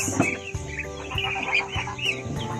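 A flock of ducks being fed on a small farm call out with busy, overlapping clucking quacks. The calls come close and fairly loud in a steady chatter with no pauses.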